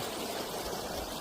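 Water flowing steadily near a new cemetery surrounded by farm fields in Uthukottai, a continuous broadband rush at moderate level with no voices.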